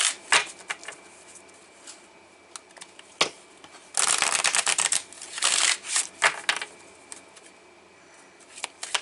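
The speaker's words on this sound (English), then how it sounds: "I'm going to pull some more cards for this Loyal Heart." Oracle cards are shuffled and pulled close up, with soft papery riffles, flicks and taps in bursts and a longer flurry of shuffling in the middle.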